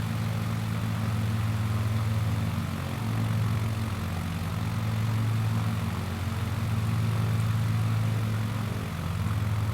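Steady drone of a propeller aircraft engine in Microsoft Flight Simulator, its low hum wavering as RPM is reduced, continuous and fairly even with no talking.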